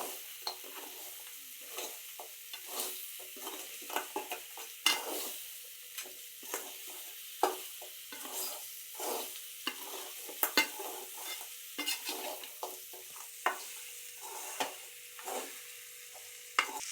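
Crab masala being stirred in a frying pan: a steady run of soft scraping spoon strokes over a faint continuous sizzle, close and moderately loud, with no voices.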